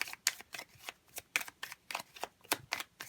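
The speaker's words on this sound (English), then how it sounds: "let's go ahead and grab a few cards here" Tarot cards being shuffled and drawn, a quick run of crisp riffling flicks and soft slaps, close and steady, with no talking over them.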